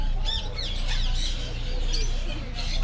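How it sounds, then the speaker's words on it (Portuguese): Parrots squawk outdoors at the Parrot Ville bird park on St. Maarten in the Caribbean. Several harsh, rising calls overlap in quick bursts against steady outdoor background noise. "Esses aqui são os pássaros que tem aqui."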